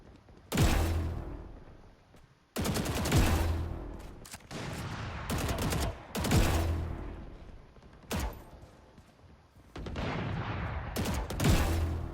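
Gunfire in the tactical shooter Valorant played on console: several loud, close bursts of rapid automatic fire and single shots, separated by short pauses, with impact sounds between them.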